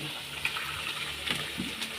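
Water splashes briefly into a pot of spiced curry, a short gush and trickle over faint kitchen background noise.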